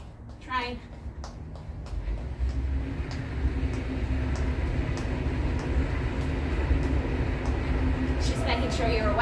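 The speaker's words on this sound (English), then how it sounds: "Train." A train rolls past with a continuous heavy low rumble and rattling wagons, steady and fairly loud throughout, with brief horn-like tones near the start and end.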